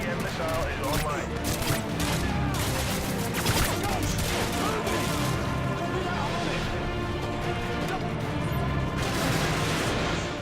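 Missile strikes and gunfire in the video game Modern Warfare 2, a dense continuous barrage of explosions and rapid shots with rumbling blasts, under a speaking voice throughout.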